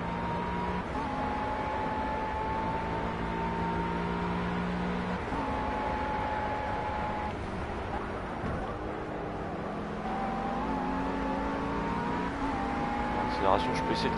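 GT3 race cars in the Project CARS video game, engines whining and shifting pitch as they race, with a steady layered drone and rising and falling tones; a voice talks over the engine noise.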